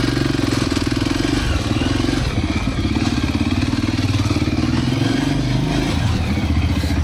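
A motorcycle engine runs loud and close throughout, a steady rumbling drone with rattling clatter and slight revving on a road in Congo.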